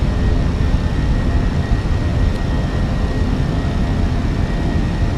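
Fenix A320 in the MSFS 2024 game just after takeoff with the landing gear retracting, heard as a steady, loud broadband engine and airflow roar that holds level throughout, with no talk and no distinct mechanical clunk standing out.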